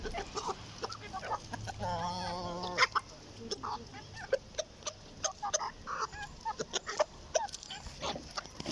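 Chinese roosters and Brazilian hens crow and cluck close by in a yard, with repeated sharp calls and a dog barking among the birds.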